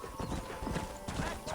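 Horse hooves clip-clop at a steady walking rhythm in a Red Dead Redemption game scene near a barn, moderately close and continuous with faint background ambience.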